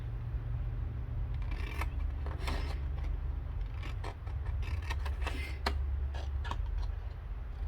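Scissors snipping cardstock along a score line while making a compartment gift box: a string of sharp, close clicks and snips at uneven intervals over a low background hum.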